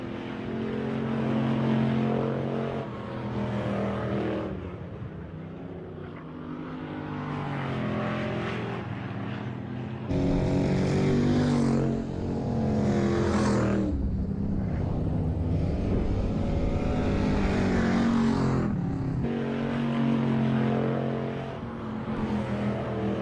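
Race cars roar around the oval during a heat race at Lake of the Woods Speedway, a continuous loud engine drone with rising and falling pitch as cars sweep past, steady throughout.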